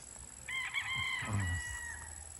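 Chickens in a small, overcrowded backyard coop, with a rooster giving one clear crow up close over a low background hum; no voices.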